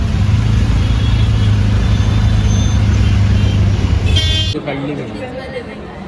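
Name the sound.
road traffic with car horns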